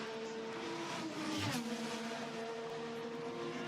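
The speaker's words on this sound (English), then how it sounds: "You can hear the engine revving up nicely" An IndyCar race car engine revs during qualifying at the Arlington street circuit, a faint, distant buzzing whine that dips and climbs in pitch once midway through, heard alone.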